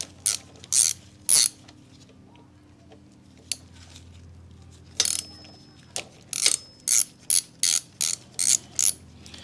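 An Allen key ratchet loosens the front axle clamp screws on a BMW R100GS motorcycle, in loud, close bursts of rapid ratcheting clicks separated by pauses, the strokes coming shorter and quicker toward the end.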